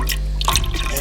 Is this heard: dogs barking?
no